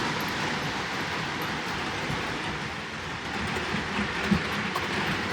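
A K-Line GS4 model locomotive pulls a Train Collectors Association set of Lionel passenger cars, producing a steady, close rolling rumble with faint clickety-clack on the track and no talk.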